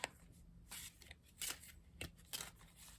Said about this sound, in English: This is the sound of overhand.